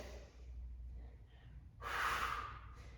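During an exercise session, a person forcefully exhales through the nose and mouth, a breathy rush after quieter breathing, close and fairly faint.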